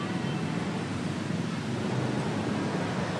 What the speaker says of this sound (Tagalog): sa ngayon ambon na lang pero malakas na hangin yung nararanasan namin dito sa Maynila